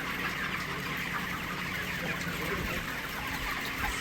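Broiler chickens cluck and chatter densely inside a farm shed, a steady crowded murmur of many birds with a constant background hum.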